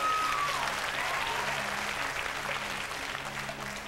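A studio audience at a game show claps and cheers loudly and continuously, the applause tapering slightly toward the end, with faint talk underneath.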